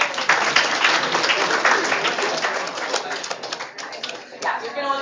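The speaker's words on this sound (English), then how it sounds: "Please give him a big round of applause" Audience applause fills a club inauguration hall, dense steady clapping from many hands that carries on for several seconds before gradually thinning out.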